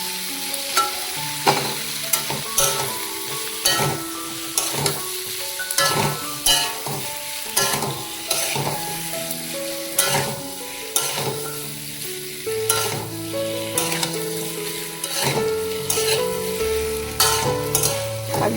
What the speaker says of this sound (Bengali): আলুটা দিয়ে একটু কষাবো